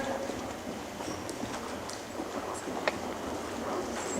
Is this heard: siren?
no